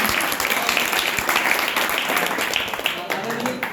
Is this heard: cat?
no